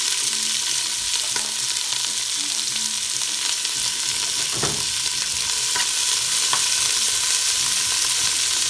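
Onions and baby carrots sautéing in hot oil for Mexican-style meatball soup, giving a loud, continuous hiss and crackle with occasional stirring scrapes close by.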